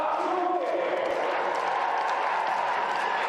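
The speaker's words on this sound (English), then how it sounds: "The crowd here in the Stockholm Stadion absolutely exploding as the Swedish rider jumps" A home crowd roars at Stockholm Stadion during a show-jumping competition as a Swedish rider jumps, a dense, sustained wash of cheering and applause filling the whole span at steady high volume.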